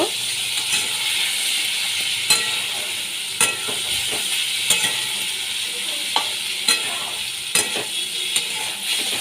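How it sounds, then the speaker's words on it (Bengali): Potatoes frying in a pan with salt and turmeric, a steady close sizzle with scattered sharp clicks and scrapes of a spatula stirring throughout, no voices. "নুন হলুদ দিয়ে আমি ভালো করে আলুগুলো ভেজে নেব"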